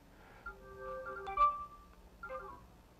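A small NFC Bluetooth speaker switches on after a phone is tapped against it and plays a short, quiet electronic start-up chime of a few tones. A second brief tone follows a moment later.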